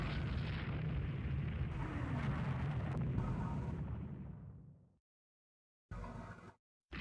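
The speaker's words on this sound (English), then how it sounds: "Getting some more 11-inch gunfire into the Colberts." A loud, sustained rumble of heavy naval gunfire, including 11-inch guns, and explosions in a naval warfare video game that fades out, followed by shorter bursts of booming.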